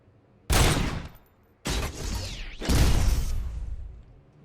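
Loud bursts of gunfire in the video game RoboCop: Rogue City, a long sustained volley, a short gap, then another rapid stretch with a sweeping whoosh, up close and with no talking.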